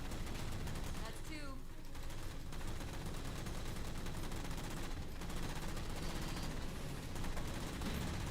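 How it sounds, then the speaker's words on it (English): Continuous, dense turret gunfire rolls through a Halo 4 battle against Phantoms, with rapid overlapping bursts and explosions layered into a loud, unbroken wall of combat noise. "I like that the turrets that are no longer being jammed are helping us. Like actively, not just shooting at the phantoms."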